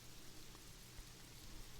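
Steady, faint rain falls continuously in a video game scene, a soft hiss with no talk over it.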